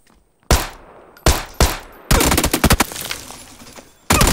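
Loud close gunfire in the battle royale shooter PUBG: a few single heavy shots, then a rapid automatic burst, and a final shot after a brief gap.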